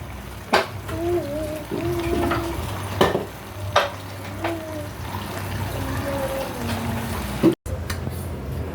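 Noodles with oyster sauce sizzle and crackle in a pan while utensils scrape and clack rhythmically through the stir-fry, with faint voices in the background.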